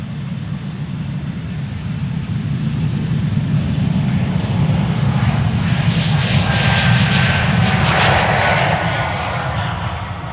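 Qatar Airways jet departing Amsterdam Schiphol, a loud, steady engine roar that builds and crests near the middle with a hissing upper tone, then slowly fades.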